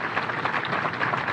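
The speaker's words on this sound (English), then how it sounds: "Can we give him a round of applause?" An audience applauds General Kibwana at the Kenya Navy 60th anniversary ceremony. The clapping is brief, steady and fairly loud, with a crowd's texture.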